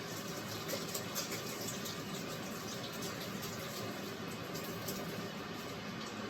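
Kitchen tap water runs steadily while raw chicken is rinsed, a faint, even hiss and splash with no pauses over the whole stretch.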